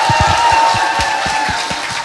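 A studio audience at a Korean talk show claps, with a burst of separate sharp claps at a brisk rhythm over a steady tone and a faint crowd murmur.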